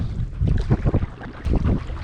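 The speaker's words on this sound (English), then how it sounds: "I'm paddling into a headwind." Gusty wind roars against the microphone while someone paddles an Isle Explorer inflatable stand-up paddle board into a headwind on open water, with buffeting surges and a splash or two, fairly loud and close.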